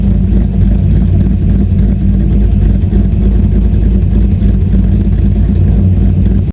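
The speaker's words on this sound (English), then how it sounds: "who doesn't love the sound of a cammed LS1?" A C5 Corvette's LS1 V8 fitted with a BTR Stage 3 cam runs loud and close, a steady deep rumble with a choppy lope and no pause or speech.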